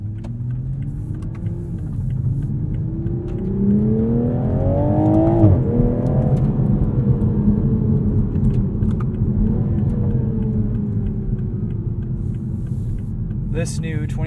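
Cabin view of a 2021 Toyota Supra 3.0 Premium in sport mode, its engine note rising steadily under acceleration, then settling into a constant rumbling drone with faint road noise.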